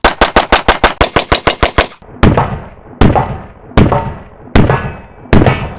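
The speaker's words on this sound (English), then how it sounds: "I was very impressed by the Type B when I shot it." Archon Type B pistol firing outdoors: a rapid string of about a dozen sharp, loud shots, then four slower single shots spaced roughly a second apart, each with a decaying echo.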